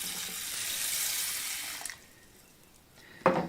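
Water pours steadily into a pot of long grain brown rice, a close splashing rush that stops partway, followed by a brief clink.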